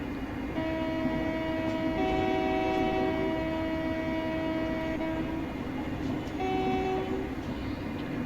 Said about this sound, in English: Haven't really had the chance to show the train horn much